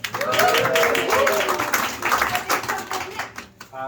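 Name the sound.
cabaret audience round of applause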